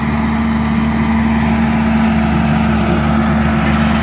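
A lawn mower engine idles steadily and loud throughout, a constant low hum with a strong droning tone, heard while clearing overgrown briars on a hunting ridge being mowed out for a deer food plot.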